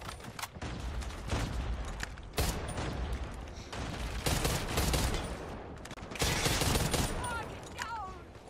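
Type 63 rifle firing in a ranked video game match, repeated loud sharp shots in rapid clusters with bursts of impact and game effects between them, some voices faintly underneath.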